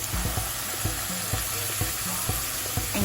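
Salisbury steak patties sizzle in extra virgin olive oil in a hot pan, a steady close hiss broken by small pops and soft clunks as they are set down.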